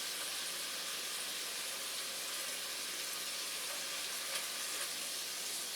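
Shrimp and asparagus frying in olive oil in a pan: a continuous, close sizzle with a dense crackling hiss that stays steady throughout, with no voices.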